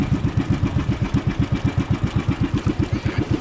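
A boat engine idles steadily with an even, rapid chugging pulse, close and loud, just before being switched off at sea during line fishing.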